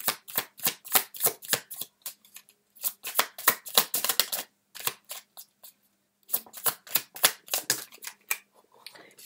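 Tarot cards are shuffled in quick bursts of crisp, rapid riffles, separated by short pauses and followed by further rounds of flicking, close and clear with no talk.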